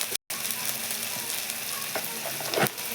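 Spices with chili paste, turmeric and salt fry in a pan with a steady, moderate sizzle, broken by a brief gap and a few stirring scrapes near the end.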